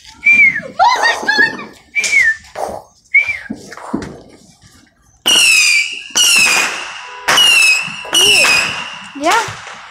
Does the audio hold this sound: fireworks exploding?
yes